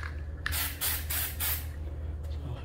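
A spray paint can hissing over rust and stains before patching drywall damaged by mice or rats, four close, loud bursts of about a third of a second each, then a fainter final puff, with no talking.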